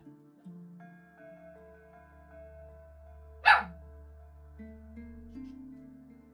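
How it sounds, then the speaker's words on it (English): A single sharp dog bark from a dog reacting to something outside, heard indoors over steady background music, loud and sudden against the otherwise calm backdrop. "My dog is hearing something outside."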